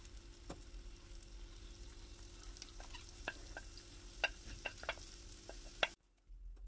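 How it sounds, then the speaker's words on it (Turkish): Omelette mixture frying in a buttered pan: a faint, steady sizzle with scattered soft clicks and taps, ending in a sudden drop to near silence. "Tavamızı biraz tereyağı ile yağlıyoruz. Karışımımızı tavamıza ilave ediyoruz."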